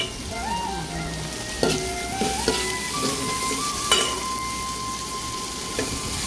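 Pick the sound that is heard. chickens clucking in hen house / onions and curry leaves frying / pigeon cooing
onions and curry leaves frying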